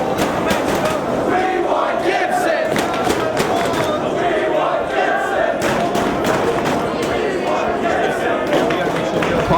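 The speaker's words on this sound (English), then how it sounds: "This crowd's chanting for Gibson" A large wrestling crowd at ROH Redemption chants rhythmically for wrestler Gibson, a loud, steady wall of massed voices with repeated emphatic beats throughout, filling the whole arena.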